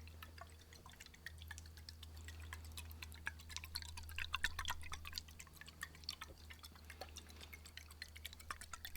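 Water drips steadily from a nearly full, leaky container, the drops landing as sharp, quiet plinks in an irregular rhythm over a low steady hum, with no voices.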